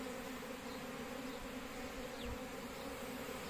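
A steady, dense buzzing of many honeybees around a multi-storey hive fills the scene continuously, close and even, with no voices.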